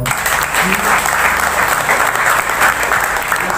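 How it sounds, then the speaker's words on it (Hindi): A large audience at a company team event claps loudly and steadily together, a thick, sustained wall of applause with faint voices underneath throughout. "आप अपने खुद के लिए एक बार जोरदार ताली बजाओ."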